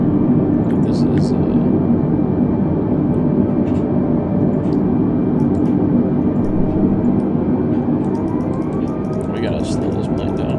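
Airbus A320neo engines drone in a flight simulator game during a flight from Salt Lake City to San Diego: a steady, broadband roar that holds throughout, with a faint rising tone and light clicks above it.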